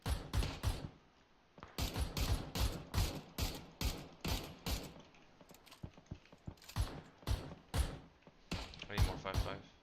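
Gunfire in the battle royale shooter PUBG, with rapid bursts of close, loud shots in clusters separated by brief pauses and mechanical clicks.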